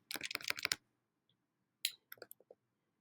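Quick bursts of clicky keystrokes on a computer keyboard as a website address is entered, a fast run of taps followed by a pause and a few scattered single key presses, close and clear with no talking.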